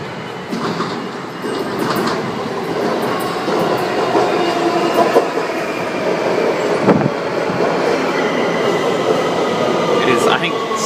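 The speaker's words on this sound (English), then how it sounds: "approaching the platform, we have a yellow line train to Huntington" Yellow line metro train to Huntington near Alexandria pulling into the platform, a steady rumbling roll with clicks and a brief squeal, moderately loud, no talk heard.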